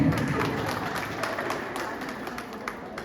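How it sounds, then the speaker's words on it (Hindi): Audience at an International Women's Day celebration in an office hall clapping together, a steady dense patter of many hands at moderate level filling the whole stretch with no voice on top. "आप अपने लिए एक बार जोरदार तालियां बजाएं।"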